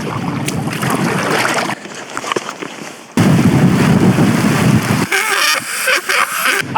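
Strong wind buffets the microphone on an exposed island campsite during heavy wind and rain, a loud continuous roar with gusty surges and brief lulls, alone without speech.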